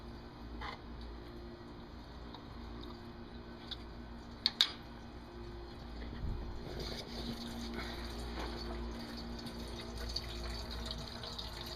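Coolant drains from the radiator of a cold Dodge, Jeep or Chrysler with a 3.7 or 4.7L engine after the radiator cap is released, making a faint, steady trickle with a couple of brief metallic clicks and no talking.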